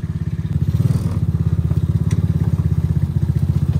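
A mini Jeep's small engine drives in first gear, a loud, close, low thrumming putter with fast regular pulses that holds steady throughout, with faint rattling over it and no talk.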